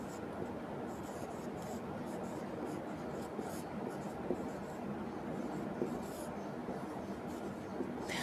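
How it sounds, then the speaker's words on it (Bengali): Pen or pencil writing by hand on paper, a steady soft scratching that runs continuously at close range, low in level, with no clear pauses or other sounds over it. "আমি একটু লিখি এখানে"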